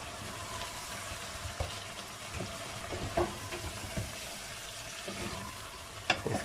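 Chicken liver cooking in spices in a pan over low heat, a steady moderate sizzle with occasional sharp clicks and scrapes from stirring, no talking.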